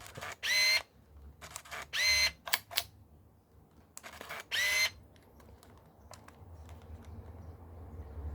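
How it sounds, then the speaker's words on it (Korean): A Nikon TW Zoom 85 film camera's motor automatically winds the film in several short, whirring bursts separated by pauses, close and fairly quiet, followed by faint clicks and handling noise. "자동으로 지키고 나면 자동으로 이렇게 감기게 됩니다"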